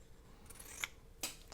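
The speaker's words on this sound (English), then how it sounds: "Look, this one I will cut." Scissors snip paper scraps for journal page tabs, two quiet, crisp cuts close by, about half a second apart, with no speech.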